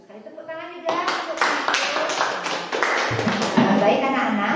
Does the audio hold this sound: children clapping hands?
yes